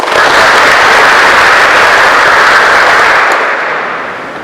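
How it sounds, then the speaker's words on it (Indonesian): A large crowd at a civil-service training closing ceremony breaks into loud, dense applause that holds strong for several seconds and then gradually fades. "Mari kita tepuk tangan."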